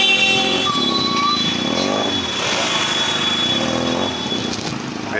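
A Benelli TNT motorcycle engine rumbles loudly during a street race, with a rising whine and the drone of other engines mixed in close by.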